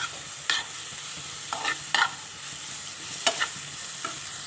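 Potato kachori filling masala frying in a pan, a faint steady sizzle broken by several sharp spoon scrapes and stirring clinks spaced irregularly, close up.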